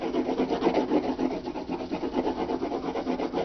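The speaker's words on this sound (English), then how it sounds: "you can just rub it along and it'll cover it pretty well for background blue for snow" A blue crayon is rubbed quickly back and forth across paper, laying down background color in a dense, rhythmic scratchy rasp of repeated short strokes, close and steady with no talking.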